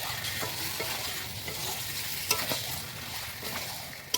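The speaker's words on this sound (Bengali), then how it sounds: "তাই একসাথে দিয়ে ভালো করে কষে নিতে হবে 10 মিনিট ধরে" Marinated chicken pieces are stir-fried in a pan over a wood-fired stove, giving a soft steady sizzle with periodic scraping stirs and a couple of sharper knocks, close and fairly quiet.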